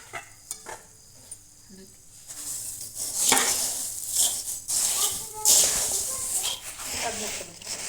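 Puffed rice is stirred and tossed with a red spice mixture for bhadang, giving a dry rustling, scraping stir in a pan. It starts sparse and quiet, then turns into louder, busier bursts of scraping over the last five seconds.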